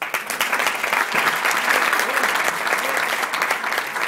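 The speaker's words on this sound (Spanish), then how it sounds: "Un aplauso para Alberto." An audience at a cider event applauds a cider pourer, with steady, dense clapping throughout, loud and close, with faint crowd murmur mixed in.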